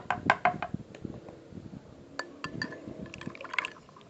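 A homemade fertilizer and soil liquid mixture for plants being stirred, with sloshing water and light clinks against the container, strongest at the start and then in scattered bursts.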